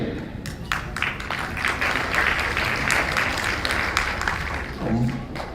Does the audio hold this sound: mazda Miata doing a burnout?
no